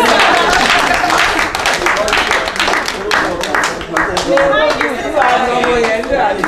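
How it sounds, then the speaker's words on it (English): Audience applause at a foundation event, dense sustained clapping that is loud and close, mixed with a voice talking over it. "A round of applause for everyone."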